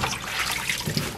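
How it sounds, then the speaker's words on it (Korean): Napa cabbage leaves are being rinsed in water in a home kitchen, with soft trickling and splashing, and a couple of brief louder sloshes near the end, close and moderately quiet. "깨끗하게 4-5번 정도 깨끗하면 나올 때까지 이렇게 씻어서 준비해 두겠습니다"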